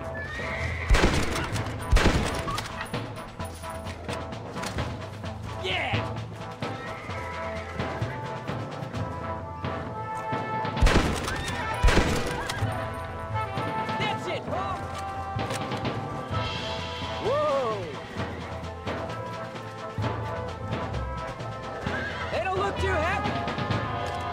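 Horses in the video game Red Dead Redemption, neighing and whinnying repeatedly over galloping hoofbeats, loud and close, with crashes, gunfire and voices in the mix.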